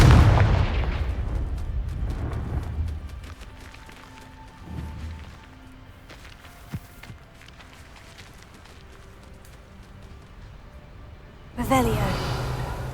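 A Confringo blast spell goes off in the Hogwarts Legacy video game: a loud fiery burst at the start that fades into softer rumbles and scattered clicks, then another sharp crackling blast near the end.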